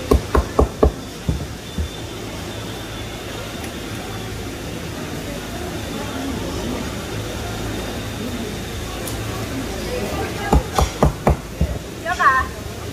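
Sharp hammer blows strike while a large bluefin tuna's bones are split at a Jumunjin harbour fish market stall, a quick cluster at the start and another near the end over steady crowd and machine hum.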